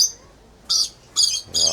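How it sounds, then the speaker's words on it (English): An Indian house crow calls three times in quick succession, harsh high-pitched squawks that are loud and close, with quiet background between the calls. "That's an Indian house crow."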